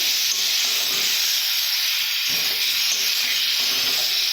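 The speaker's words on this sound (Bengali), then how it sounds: "ভালোভাবে ভেজে নিয়েছি জল দেব যতটা ঝোল রাখবো সেভাবে জলটা দিয়েছি" Water goes into a hot frying pan of fried mango curry, setting off a loud, continuous steamy hiss and sizzle that holds steady throughout, with no talking.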